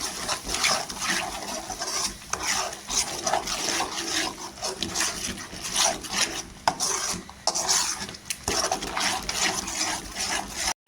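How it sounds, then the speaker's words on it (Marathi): Masala being sautéed in oil for crab curry, heard as continuous rhythmic scraping and stirring of a spatula against a pan, close and fairly loud throughout. "2 मिनिटं छान असं ह्याच्यावर परतून घ्यायचं तेलावर"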